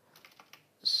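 Several quick keystrokes tap on a computer keyboard, a short burst of light clicks, close and dry, followed by a brief hiss of noise.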